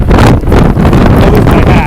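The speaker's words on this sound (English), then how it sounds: "Wind just came out of nowhere there" A strong typhoon wind gust roars into the microphone on a city street, a loud, close, buffeting rumble that swells and pulses throughout.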